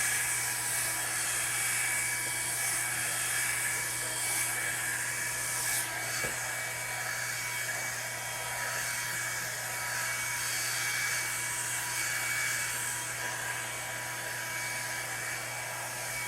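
A hair dryer blow-drying hair runs steadily and loudly for the whole stretch, a constant whooshing hum with a low tonal drone and slight airflow wavering, close by and with no talk.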